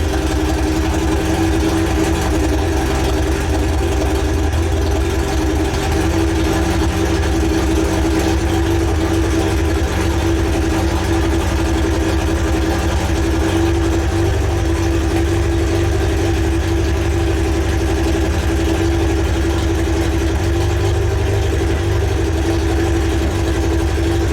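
A Toyota Celica TA22 with a 2TG engine runs at a steady, loud idle, a continuous close-up drone with no breaks.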